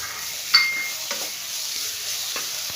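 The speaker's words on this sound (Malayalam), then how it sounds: "ഇതിലേക്ക് നമ്മൾ നേരത്തെ വേവിച്ച് വെച്ചിരിക്കുന്ന കടല ഒഴിച്ചു കൊടുക്കാം" Cooked chickpeas being stirred into a coconut-based kadala curry in a pan, giving soft scraping stirs with a few sharper clinks of a spoon against the pan over a low sizzle, no talk.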